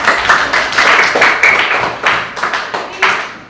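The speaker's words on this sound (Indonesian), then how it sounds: "Tepuk tangan." A classroom group claps hands together in a lively burst of applause, with repeated sharp, fairly close claps lasting several seconds and fading slightly toward the end.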